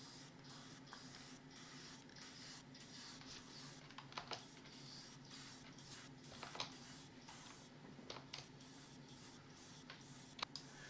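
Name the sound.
airbrush spraying Alclad polished aluminium paint on model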